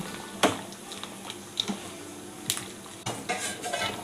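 Coriander powder and garam masala being stirred into a chicken curry in a pot, with scattered light clinks and scrapes of a spoon against the pan at an irregular pace, close and soft, with no talking.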